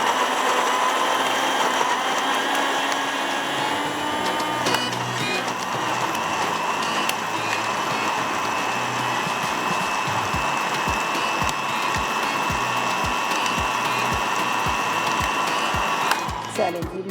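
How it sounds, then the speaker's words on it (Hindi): Kitchen blender grinding chutney for a paratha meal, a loud continuous whirring motor churning throughout, turning into rapid regular clattering pulses near the end before stopping abruptly. "ब्लेंडर को हमेशा आपने रुक रुक के चलाना है, एक साथ ना चला दें"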